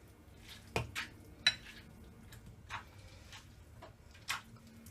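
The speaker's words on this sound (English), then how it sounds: "we take our little handy dandy masher here and just go to town on it" Scattered soft knocks and clicks of a potato masher pressing cooked cauliflower in a crockpot, a few sharper taps standing out, quiet and irregular with no talking.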